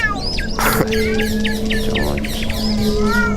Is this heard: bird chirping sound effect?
yes